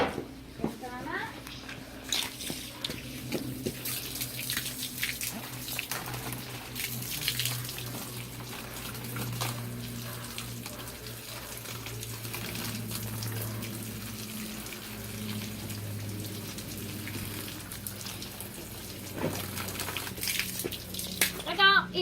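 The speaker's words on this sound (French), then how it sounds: "Ok, je vais arroser maintenant." Water is poured onto soil in a home experiment, a steady splashing gush running for long stretches while an adult and someone talk over it.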